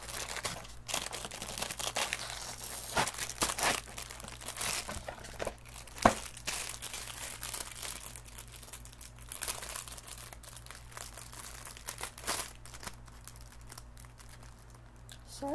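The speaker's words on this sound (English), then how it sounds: "More crinkling." Plastic packaging crinkles and crackles in close, irregular bursts as it is unwrapped by hand, with a low background hum.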